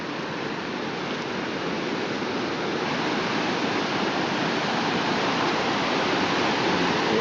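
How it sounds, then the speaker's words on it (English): A river in Norway's Vaga area runs on in a steady, loud broadband rush of flowing water. The roar builds slightly over the clip and no voices are heard. "Getting closer to the river."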